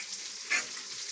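Coconut powder and coarsely crushed red chili dry-roasting on a tava griddle, a faint soft crackle with a brief louder stir or scrape midway.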